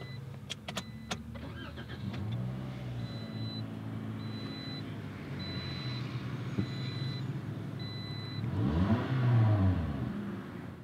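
A 2018 Toyota Corolla LE engine cranks and catches, then settles into a steady idle with some revving. Warning chimes beep at intervals over the running engine, and no one speaks.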